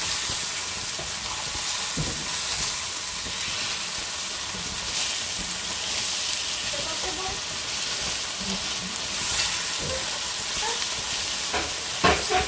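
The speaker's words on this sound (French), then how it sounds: "Je mélange." A potato, sausage and tomato stew is stirred in a pot over a steady sizzling hiss, with occasional soft scrapes and knocks of the spoon. Quiet voices murmur in the background.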